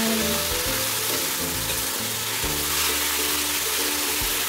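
Beef fries in a pan and gets stirred, a constant dense sizzle heard close and fairly loud with no talking, while a low tonal hum runs underneath.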